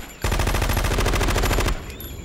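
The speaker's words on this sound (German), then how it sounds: "Die schießen aber auch eher." Machine-gun fire in Metal Gear Solid 2: one sustained, rapid automatic burst of about a second and a half, loud and close, then it stops abruptly with no voices.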